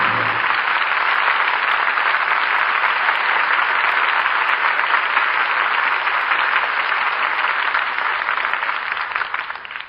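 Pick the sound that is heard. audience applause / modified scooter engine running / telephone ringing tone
audience applause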